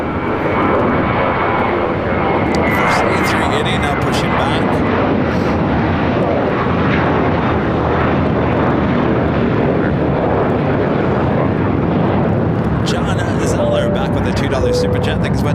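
Airbus A380 jet engines at LAX as the aircraft pushes back, a loud, steady broadband roar filling the whole clip, with radio chatter and voices faintly mixed in.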